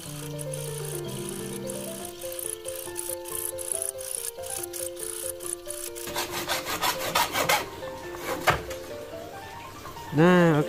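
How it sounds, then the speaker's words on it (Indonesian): A hand saw cuts slowly through a pipe reducer along a marked line, producing rhythmic rasping strokes, some tonal squeaks and pauses between passes, fairly close and moderately loud. "kita akan menggergaji sesuai dengan garis yang sudah kita buat. Oke, kita gergaji kembali pelan-pelan saja"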